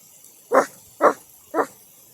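A person's voice imitates a dog by barking through cupped hands: three short, muffled woofs at an even pace, close to the mic and with nothing else around them.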